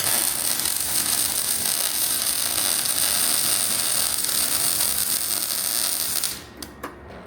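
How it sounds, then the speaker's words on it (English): Steady, loud crackling buzz of steel being welded across the tops of a frame during a toter home rebuild, running continuously for about six seconds before cutting off, followed by a couple of faint clicks. "I'll go across the tops and weld those"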